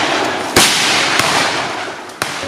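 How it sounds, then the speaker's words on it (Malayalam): Pipe action gun fired by a forest team to drive an elephant away, three sharp cracking blasts spread over a couple of seconds above a steady noisy outdoor background. "പൈപ്പ് ആക്ഷൻ ഗണ്ണുപയോഗിച്ച് ദൗത്യസംഘം ശബ്ദമുണ്ടാക്കി അവനെ തുരത്തുകയായിരുന്നു."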